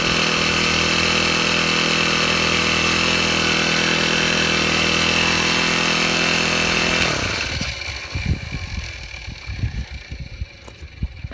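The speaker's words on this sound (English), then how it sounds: "You're going to let your engine run for probably a minute." A Honda GX35 four-stroke trimmer engine runs loud and steady with a harsh, buzzing drone for about seven seconds, then cuts off abruptly and leaves only faint clicks and small knocks.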